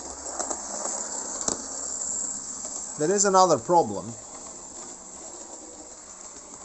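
A Lima SNCF BB67001 model locomotive runs beneath a Jouef rail-cleaning tanker wagon, giving a steady, thin electric whir and hum throughout, with someone speaking briefly midway.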